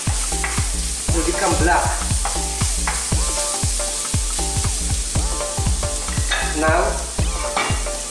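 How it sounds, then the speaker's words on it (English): Garlic, ginger and onion sizzle in hot coconut oil while a utensil stirs them with steady, rhythmic scrapes against the pan, loud and close, and a voice speaks briefly. "Do not overcook your garlic, ginger and onion, because you know the coconut oil"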